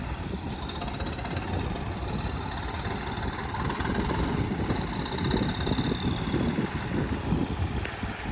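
A Swaraj 855 tractor engine running with a trolley hitched, a steady low diesel rumble and chug that holds close and fairly loud for the whole stretch with no clear voices over it.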